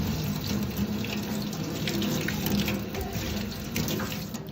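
A copper plate rinsed under a running tap fills the space with a steady, close hiss of water splashing into a sink, unbroken and with no voices.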